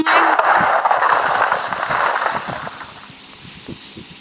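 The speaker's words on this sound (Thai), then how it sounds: "ผมก็จะทำให้ดู ดูฮะ ดูยิง" Rapid burst of TNT cannon blasts in Minecraft (version 0.14.3), a loud dense crackle of explosions that stays strong for several seconds before thinning into scattered pops and fading.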